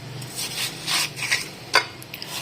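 A knife cuts watermelon into pieces for sharbat, making a few close, brief rasping slices and a sharper tap on the board near the end.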